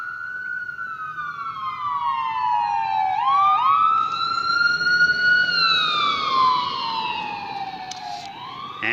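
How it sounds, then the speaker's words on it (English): Sirens of emergency vehicles, including an ambulance, wail past with rising and falling pitch, several overlapping, loud and close, over the hum of road traffic; no one speaks. "Emergency vehicles."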